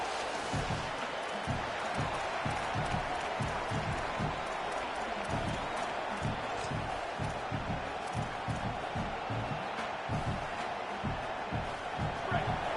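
Stadium crowd noise in the NCAA 27 college football video game, a dense steady roar of cheering and clapping with rhythmic thumping pulses throughout, under a commentator's voice.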